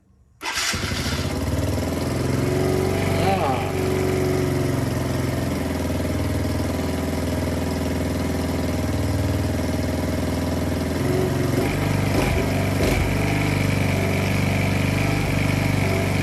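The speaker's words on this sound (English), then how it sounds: "So key on, squeeze brake, hit start." A Polaris Outlaw 50 youth ATV engine cranks and starts, then settles into a steady, loud idle that runs on alone with a slight rise and fall.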